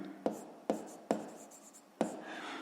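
Pen strokes on paper during a fifth-grade maths exercise, with four sharp taps of the pen set against a steady scratchy writing texture, close and fairly quiet, no talking.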